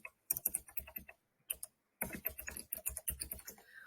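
Rapid, uneven keystrokes on a computer keyboard, close and fairly crisp, coming in two bursts with a short pause between them.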